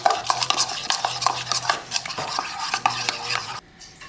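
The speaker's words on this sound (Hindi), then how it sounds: "ये अब आपने इसको अच्छी तरह पहले मिक्स करना है ताकि अंडा और मसाले जो डाले हैं आपने थोड़े थोड़े, वो अच्छी तरह मिक्स करना है पहले।" Onions being stirred with egg and spices in a bowl, a spoon scraping and clinking against the sides in a steady, busy rhythm, close and fairly loud, with no voices; the mixing stops near the end.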